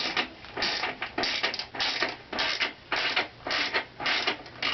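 Repeated creaking, ratcheting strokes of a wrench loosening the 24 mm rear axle nut on a Honda CB300F motorcycle, with a second wrench on the 19 mm side, a steady rhythm of about ten close, fairly loud pulls.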